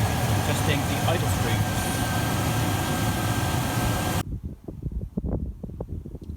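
Rover SD1 engine idling at around 900 RPM while its carburettors are adjusted, a steady low rumble with wind buffeting the microphone that cuts off abruptly partway through, followed by a few quieter knocks.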